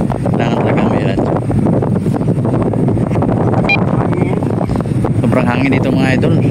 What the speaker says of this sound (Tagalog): Sobrang hangin dito mga idol.